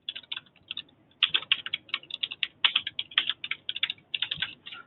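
Rapid, steady typing on a computer keyboard while a name is entered into a document template, with close, crisp keystrokes in uneven bursts and short pauses and no talking.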